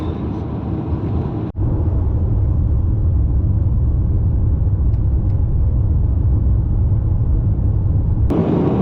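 Car cruising along a long outback road to Nullagine in Western Australia, a loud steady low engine and tyre rumble heard from inside the cabin, with a brief dip early on.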